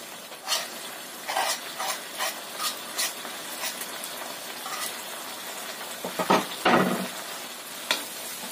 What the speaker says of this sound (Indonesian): Kita tumis sampai bumbu-bumbunya ini matang.